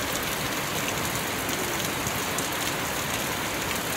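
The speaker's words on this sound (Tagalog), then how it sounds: "eto na yata yung pinakamalakas sa ulan ngayong taon" Heavy rain pours down in a rural province, a steady, dense hiss of drops on surfaces that stays loud and even throughout with no voices.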